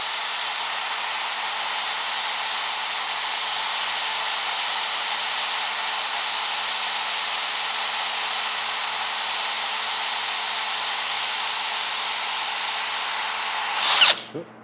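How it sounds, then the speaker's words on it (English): Power drill running in a metal shop, a loud steady whine held for about fourteen seconds before it winds down abruptly at the end, no talk over it. "Start the drill."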